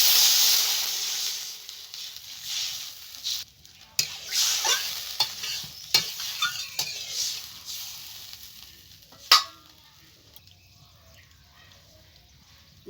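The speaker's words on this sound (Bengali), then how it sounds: "এবার আমি কড়াইতে জল দিয়ে দেবো।" Water poured into a hot wok after frying prawns bursts into a loud hiss that fades away, broken by sharp clicks and scrapes of stirring until it quiets to a faint simmer.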